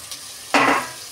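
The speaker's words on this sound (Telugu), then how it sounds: "బంగాళదుంపలు వేసేసుకోండి." Potatoes tipped into a frying curry in a pan, a sudden burst of sizzling that swells and then settles into a softer hiss, close up, no talking.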